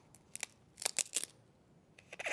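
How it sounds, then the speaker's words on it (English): Scissors snip during a kids' craft, a run of quick close cuts in short bursts, a pause, then more snips. "So I'm gonna need my scissors."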